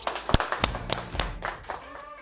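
Scattered hand claps from a small group at a hardware store celebrating Builder's Day, uneven and sparse, mixed with brief voices.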